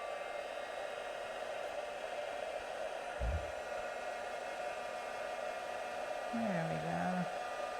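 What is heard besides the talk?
heat tool heating craft embossing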